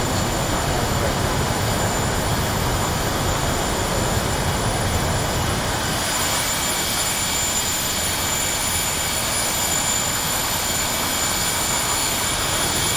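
A Su-25T jet in the DCS World flight sim taxiing, its engine giving a constant loud roar with a high whine on top, broad and unbroken throughout.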